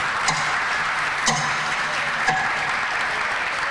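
An audience at a Lithuanian school's hundred-day celebration applauds loudly, a dense, steady wash of clapping with a few sharper claps standing out, no voices.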